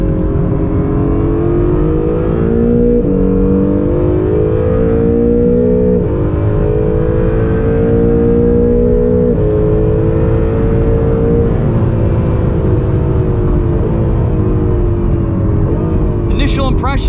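A 2020 Acura NSX engine drones loudly and continuously on track, its pitch climbing and dropping with repeated automatic gear shifts, with a brief clatter at the end.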